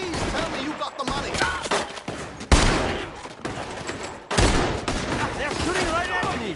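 Dense bursts of gunfire fill a Red Dead Redemption 2 shootout, loud and near with overlapping cracks and heavier blasts, while voices shout over the shooting.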